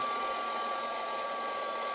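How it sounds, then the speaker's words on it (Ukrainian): A low-power hair dryer blows steadily while wax is cleaned off candle holders, a constant close whooshing hum with a fixed whine, no talk. "треба мати фен, це такий малопотужний"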